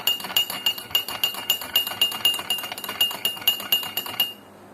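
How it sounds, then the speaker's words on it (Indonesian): A spoon stirs clear water tinted yellowish-brown with drops of citrus juice in a glass, ringing out about twenty quick, evenly spaced clinks against the side before stopping abruptly. "Lalu kita aduk."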